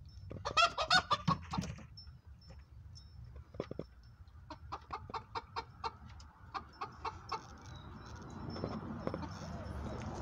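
Chickens cluck in short repeated bursts around a cage, near and fairly clear, with a person speaking over parts of it.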